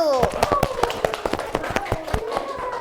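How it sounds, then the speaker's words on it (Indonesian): Schoolchildren clap in rhythm for a group in a classroom activity, sharp distinct claps in a quick steady pattern while voices chatter and call out over them. "Kita beri tepuk tangan dulu untuk kelompok 1"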